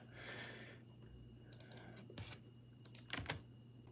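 Typing on a computer keyboard that is playing up, heard as faint, scattered clicks and short bursts of keystrokes, very quiet, with a soft voice-like murmur at the start.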